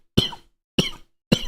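Three sharp, separate coughs from one person, evenly spaced, close and fairly loud, with silence between them.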